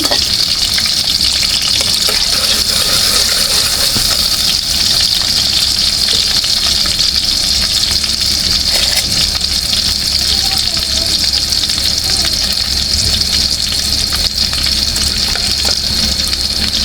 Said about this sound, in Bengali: আমি খড়াইটা বসায় দিচ্ছি পেঁয়াজটা দিয়ে দিচ্ছি তেলটাও দিয়ে দিচ্ছি